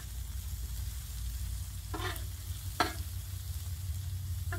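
Shrimp fry on a griddle with a steady, low sizzle, punctuated by a couple of brief scraping or stirring touches. Nobody speaks.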